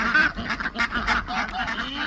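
A flock of ducks quacking close by in a farmyard, with rapid overlapping calls that keep a busy, uneven rhythm and no talk.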